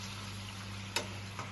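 Chorizo and potatoes cook in a pan with a steady close sizzle over a low hum, broken by a sharp click partway through and a softer tap after.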